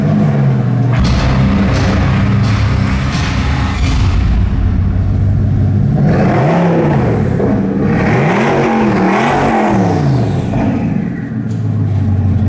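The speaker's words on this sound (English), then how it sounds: "So this is the W16 8-litre 1600 horsepower engine, and this is 100 horsepower more than the standard Chiron." The 8-litre 1600-horsepower W16 engine of a Bugatti Chiron Super Sport 300+ idles loudly up close, then revs repeatedly in rising and falling bursts before dropping back to idle.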